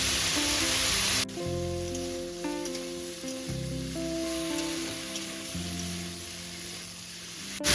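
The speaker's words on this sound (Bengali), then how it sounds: "তেলের উপর কচুরলতি দিয়ে এখানে 3 মিনিট মতো খুব ভালো করে মিডিয়াম ফ্লেমে এপিট ওপিট করে ভেজে নেব" Taro stolons sizzle steadily in hot oil over a medium flame, a continuous bright crackling hiss heard alongside background music.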